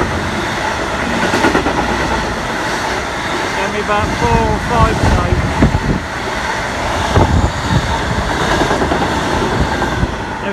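A late-running class 66 freight locomotive hauling empty ballast wagons rumbles past a station platform, wheels clattering rhythmically over rail joints close by, while someone talks over the passing train.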